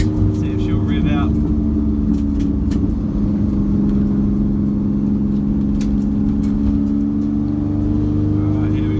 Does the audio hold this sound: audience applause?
no